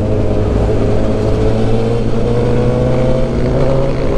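A Suzuki GSX-S1000 motorcycle engine held at steady revs with the throttle, a close, loud, even drone with a strong low hum, alone without talk.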